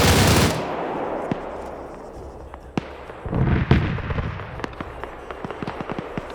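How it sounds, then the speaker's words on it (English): Gunfire in a military shooter game: a heavy blast opens, then scattered sharp shots and short bursts crack at varying distances, some close and loud, others faint and distant. "Gonna burst a little bit of ammo."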